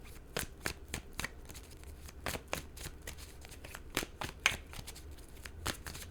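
Tarot cards shuffled by hand, a run of quick crisp riffling bursts and soft slaps at close range, with brief pauses between them and no talking.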